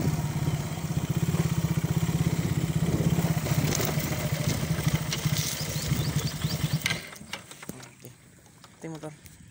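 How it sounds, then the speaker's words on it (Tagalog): A motorcycle engine idles close by with a rapid, even putter for several seconds, then cuts off, leaving quieter outdoor background noise and a few faint sounds. "Ito yung motor."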